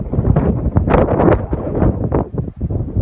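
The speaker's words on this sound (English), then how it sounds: "Very windy up here" Strong gusting wind buffets the microphone high up at Charlotte Pass in the Snowy Mountains, a loud, close, uneven rumble that surges and eases without a break.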